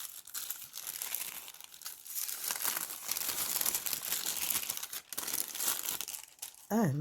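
Paper crinkles and tears as the wrapping comes off a Cartier leather card holder in a pouch, a steady rustle lasting several seconds before a brief voice at the end.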